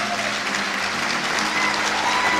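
A hall full of people at a church presentation honoring thirty-one young men breaks into loud, sustained applause, a dense even roar of clapping throughout.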